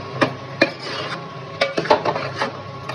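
A spoon scrapes and clinks against a pot while cashews and cardamom powder are stirred into carrot halwa, several sharp irregular knocks and scrapes close by with a soft sizzle beneath.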